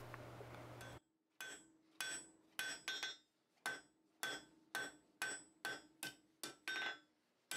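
A blacksmith roughs out the end of an iron push rod for a Nuremberg box, landing about a dozen sharp, ringing hammer blows in an irregular rhythm with brief pauses. Nobody talks.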